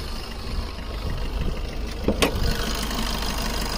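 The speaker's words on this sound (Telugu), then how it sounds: "ఇంజన్ సౌండ్ చేసి చూపిస్తాను" A vehicle engine idles steadily with a low, even rumble throughout, joined briefly near the middle by a couple of sharper clicks.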